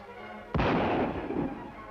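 A single sharp gunshot cracks out in dry, open country, loud and close, then rolls away in a long reverberating echo across the landscape.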